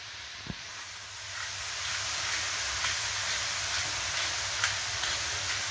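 Lean 5% fat ground beef goes into a hot pan for chili con carne and breaks into a loud, steady sizzling hiss that rises after a brief clatter and continues with small crackles throughout.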